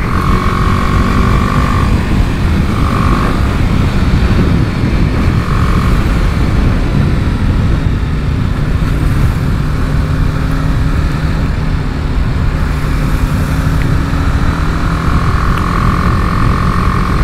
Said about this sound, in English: We'll do some lane splitting, we'll get onto the highway, just really use this bike wherever we can.